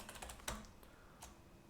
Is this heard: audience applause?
no